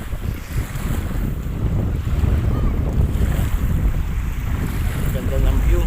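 Cool wind gusts across the Manila Bay seaside with rumbling microphone buffeting and a wash of water and waves beneath, steady and close, with a few faint voices in the background.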